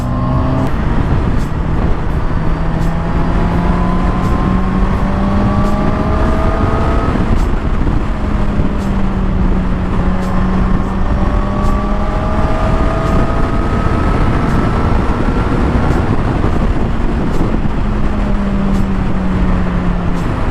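A Honda CBR600RR 600cc sport motorcycle engine drones loudly in sixth gear, its pitch rising steadily, dipping at a shift, then climbing again, with continuous wind noise and no talking.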